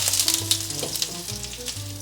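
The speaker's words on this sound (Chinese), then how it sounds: "把红萝卜稍微炒软。" Carrots stir-fry with ginger in a pan, a brief close sizzle with a few bright crackling bursts and light stirring.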